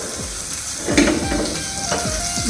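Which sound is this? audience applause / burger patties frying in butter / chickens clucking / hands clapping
burger patties frying in butter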